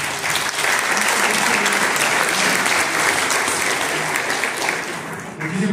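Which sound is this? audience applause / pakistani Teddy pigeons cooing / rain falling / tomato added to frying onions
audience applause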